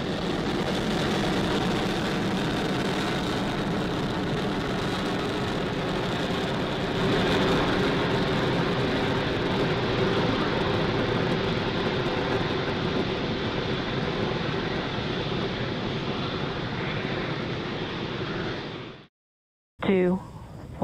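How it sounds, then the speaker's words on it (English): Falcon 9 rocket launch carrying Starlink satellites, a loud sustained broadband engine roar that rumbles steadily for nearly twenty seconds before cutting off abruptly. "Two, one, zero. Ignition. And liftoff. Falcon 9 is pitching downrange."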